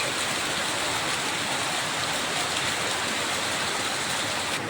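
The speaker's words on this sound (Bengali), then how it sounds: "এই যে বৃষ্টি হচ্ছে মুষলধারে" Heavy torrential rain pours down in a dense, unbroken roar of hissing water that stays constant and loud from start to finish. There are no voices.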